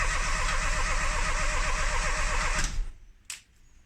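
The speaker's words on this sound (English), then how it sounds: "if I turn this key to start, the engine should crank" A Mini engine cranks on its starter, a steady rhythmic churning whir up close, until the key is released and it cuts off, followed by a brief clunk.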